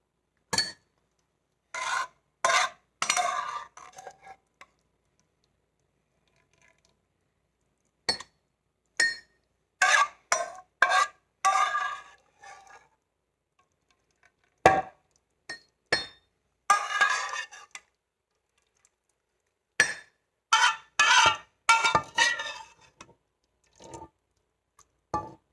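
Ladle scraping and clinking as onion soup with onions is spooned into a bowl, heard as irregular bursts of close metallic scrapes and clinks separated by quiet gaps.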